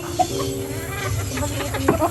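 Chickens cluck softly nearby in short scattered calls over low background noise.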